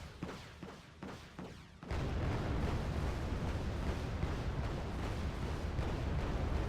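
A napalm strike erupts in the war strategy game Wargame: Red Dragon. After a few faint thuds, a sudden loud blast swells into a dense, sustained roar of fire that continues for several seconds.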